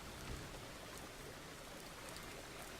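Rain in the farming video game Farmer's Dynasty, a faint, even hiss of falling drops with no voices over it.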